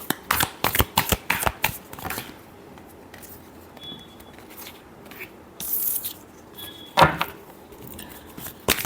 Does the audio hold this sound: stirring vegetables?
no